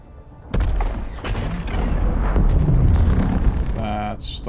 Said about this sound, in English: Ah, spice explosion.